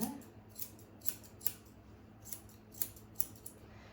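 Scissors trimming a pet's fur, about nine crisp, close snips spaced irregularly over a quiet room background with a low steady hum.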